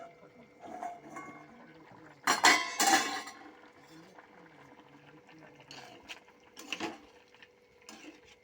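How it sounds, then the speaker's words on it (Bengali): A metal lid comes off a cooking pot of vegetable stew after ten minutes of covered cooking, making a short burst of close metallic clattering in an otherwise quiet kitchen, followed by a few lighter clinks. "এবার ঢাকাটা খুলবো।"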